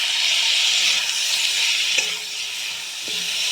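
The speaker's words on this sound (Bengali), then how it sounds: "ভালো করে এবার আমি কষিয়ে নেব।" Tilapia sautés in a pan with tomato, a loud continuous sizzle and hiss running throughout, with a couple of faint clinks from stirring.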